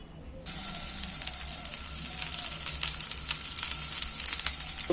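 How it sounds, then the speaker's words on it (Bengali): Egg and onion frying in oil in a pan, a continuous close sizzle that builds slightly louder after a quiet start, with faint crackles throughout. "এবার বাকিগুলো আর একবার আমি ভেজে নিচ্ছি এক চামচ তেল দিয়ে দিচ্ছি"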